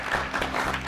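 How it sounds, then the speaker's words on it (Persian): A studio audience at a Persian-language comedy show claps in a brief, dense burst of applause that stays fairly steady in loudness for under a second. "اگر دوستان خنده داشت خب بلند تشویق کنید"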